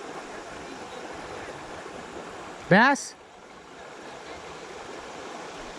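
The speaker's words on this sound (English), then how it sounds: "There's a waterfall coming into it." A river pours over a waterfall into a deep pocket, giving a constant, even rushing hiss throughout, with a brief spoken word partway through.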